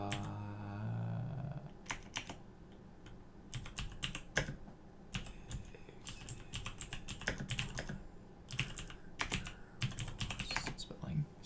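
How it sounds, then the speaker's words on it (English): Computer keyboard typing in scattered bursts of quick clicks, close and moderately loud, with short pauses between clusters and a low murmur beneath. "So let's see if I can type this in here."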